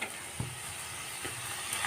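Shrimp fry lightly in a pan, giving a steady, close sizzle and crackle with a couple of faint clinks.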